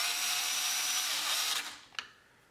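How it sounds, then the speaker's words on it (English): A power driver running screws into the steering wheel trim of a C8 Corvette, one close whirring burst of about a second and a half, then a short click as it stops. "Next, we're going to go ahead and put these screws into here,"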